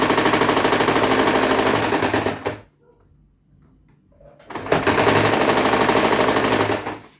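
Sewing machine stitching a patchwork fabric bag's lining and straps, a loud, dense mechanical rattle that runs steadily, halts for about two seconds, then starts again at the same pace.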